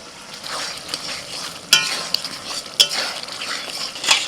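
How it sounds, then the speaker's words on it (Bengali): Fried capsicum is stirred into a spice paste cooking with yogurt, giving a steady close sizzle of frying broken by sharp scrapes and clinks of a spoon against the pan. "মশলা কষা হয়ে গেছে, ভাজা ক্যাপসিকাম দিয়ে দিচ্ছি।"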